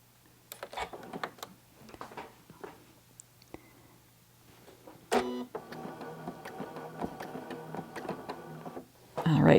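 A sewing machine stitching a quilt along a ruler runs in a steady rapid whir with a mechanical hum, starting midway after scattered clicks and handling taps, fairly quiet and close, with faint speech-like sounds mixed in.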